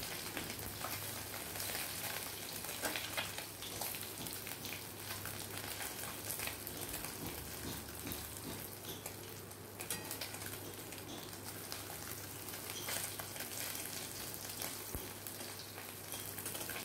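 Small mourala fish fry in oil in a pan, giving a soft, continuous sizzle and crackle that stays fairly quiet and even throughout, with no one speaking.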